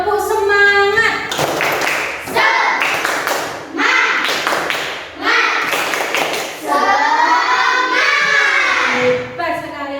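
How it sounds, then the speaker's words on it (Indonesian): Schoolchildren in a fifth-grade classroom perform a rhythmic spirit clap, with quick bursts of hand claps in patterned groups and young voices chanting along, loud and close. "Coba tepuk semangat."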